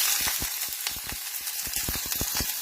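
Chopped onion and ginger sizzle steadily in hot oil, with a constant bright hiss broken by soft scraping clicks of stirring throughout.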